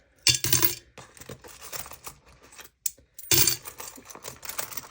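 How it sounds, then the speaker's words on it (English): Loose change coins are emptied into a container, first as a loud jangling pour, then scattered clinks and rattles, then a second loud cascade of coins, with no talking. "So we're going to empty our change in here"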